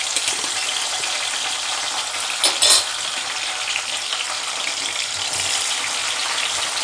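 Tomatoes fried over a medium gas flame for a spicy tomato chutney, a loud steady sizzle close by with a brief burst of crackle and splatter partway through, no voices.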